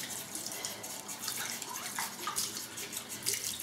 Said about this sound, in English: Just give this a good rinse.